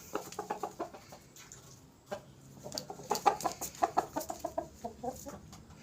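Chickens cluck in quick repeated bursts close by, with a short pause midway and a busier flurry of clucks toward the end; a thirteen-month-old bird recovering from illness.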